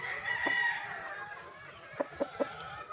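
Gamefowl broodcock of the Banahaw street breed crowing once, loud and close, then clucking in three short sharp notes, with no voices.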